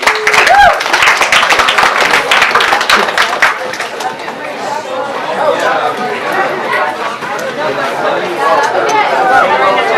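Audience applause closing a class session at a civics engagement day, a dense burst of clapping for the first few seconds that fades into steady crowd chatter and voices.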